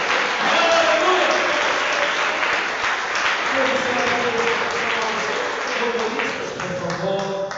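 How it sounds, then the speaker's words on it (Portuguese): Church congregation applauding during a Portuguese-language worship service, a dense, steady wash of clapping that stays loud throughout, with sustained sung or spoken tones running beneath it. "Vamos aplaudir esse Jesus."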